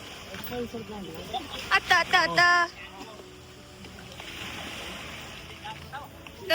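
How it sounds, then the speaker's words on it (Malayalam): A speed boat engine drones with water rushing and sloshing alongside, near Boracay in the Philippines, while people talk briefly over the steady motor hum. "സ്പീഡ് ബോട്ടിലാണ് പോണേ."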